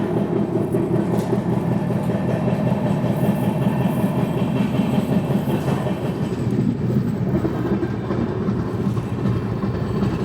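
The Visakhapatnam–Mumbai LTT SF Express rolls into Manmad Junction, a steady loud rumble of wheels on rails with a low continuous drone and faint clatter, heard from inside the coach.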